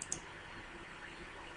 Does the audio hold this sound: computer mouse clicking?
yes